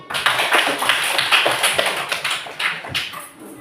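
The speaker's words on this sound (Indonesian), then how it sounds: "Ya, tepuk tangan dulu." A classroom of students claps hands together, a dense, brisk patter of many close claps running steadily throughout and easing slightly near the end.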